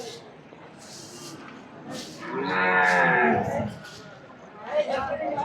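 Buffaloes and cows at a busy cattle market, with one long loud moo rising through the middle amid shuffling, distant calls and people chattering around the animals.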